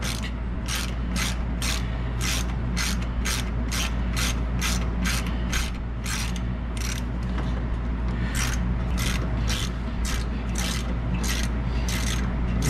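A ratchet wrench works on the brake caliper of an Indian Chieftain Limited motorcycle, its pawl clicking in repeated rapid bursts of sharp ticks over a steady low background hum.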